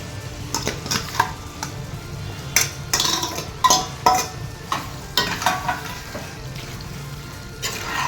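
Prawns fry in onion masala in a pan while a spatula stirs them, giving repeated scraping clatters against the metal over a constant gentle sizzle, close by.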